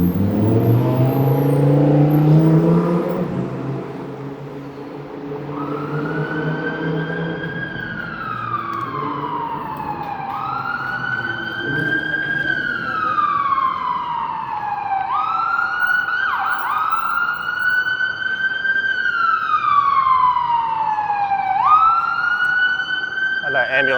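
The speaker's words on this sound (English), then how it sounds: "That ambulance is nowhere near the intersection." An ambulance siren wails loud and repeated in Toronto city traffic on Yonge Street, rising and falling in long sweeping cycles over steady street rumble, after a brief stretch of talking at the start.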